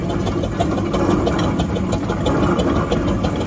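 A steam engine runs in the ring at a West of England Steam Engine Society rally, giving a steady, close mechanical chugging with a regular low knock and no voices over it.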